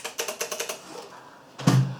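Quick keystrokes on an ordinary computer keyboard tap out a fast, even rhythm of about seven clicks, then pause before one louder, heavier knock, all close up and alone.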